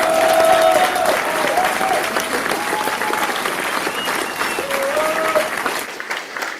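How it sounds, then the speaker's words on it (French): A large crowd at a French political rally applauds steadily for several seconds to salute striking workers, the dense clapping loud at first and gradually thinning out, with faint cheering voices underneath. "je vous demande de les applaudir et de les saluer"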